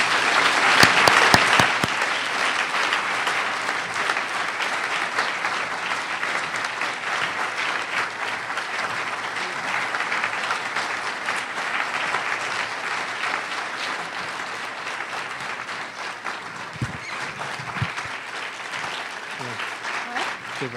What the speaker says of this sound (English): big, warm applause for you two.